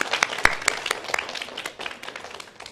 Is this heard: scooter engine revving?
no